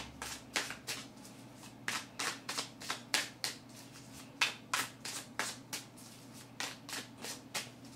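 Tarot cards shuffled by hand in quick rhythmic bursts, a dozen or more crisp riffling slaps in a steady pattern, close and alone in a quiet room.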